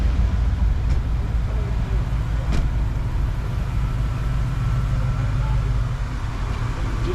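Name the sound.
cars pulling into a parking lot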